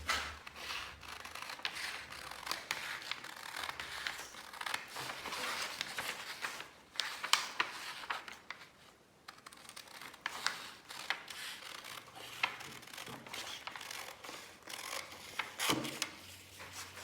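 Scissors cutting out a paper sewing pattern for a back bodice, a quiet close series of crisp snips and rustling paper in irregular bursts, with a brief pause midway.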